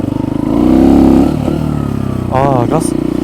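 A Kuba Race 125 motorcycle ridden over a jump during a suspension test, its engine droning and rising briefly, with a rider talking over it.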